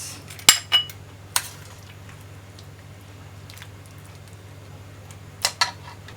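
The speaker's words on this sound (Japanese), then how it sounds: "お皿に継ぎます" Light clinks of utensils against a plate and pan while pork and burdock yanagawa is served, a few sharp taps early and near the end over a low steady hum.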